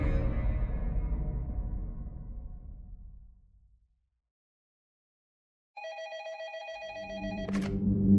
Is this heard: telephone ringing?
yes